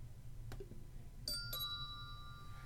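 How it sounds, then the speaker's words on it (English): A classroom timer gives a simple bell ring, two clear bright chimes close together after a faint click, the last tone ringing out briefly in a quiet room. "It makes it just a nice little simple bell ring so students know it's done."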